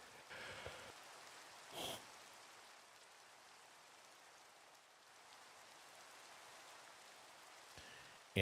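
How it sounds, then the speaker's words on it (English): Rain falling in a video game at night, a faint, steady hiss of drops that continues throughout with no talk. "it's still dark out and raining"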